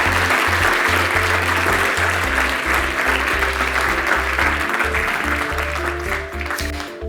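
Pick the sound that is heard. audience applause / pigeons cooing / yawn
audience applause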